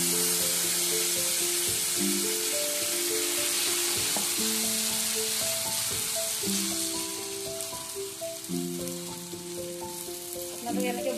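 Tomatoes fry in mustard oil on a flat pan with a bright, steady sizzle that softens slightly toward the end, while a sustained musical tone plays over it.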